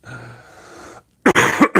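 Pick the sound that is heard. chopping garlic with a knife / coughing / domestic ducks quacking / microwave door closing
coughing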